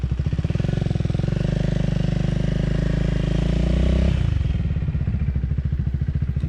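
Triumph Speed 400 motorcycle accelerating hard up through the gears with a quickshifter, a loud close engine drone that climbs steadily and then drops sharply at a clean upshift before pulling again.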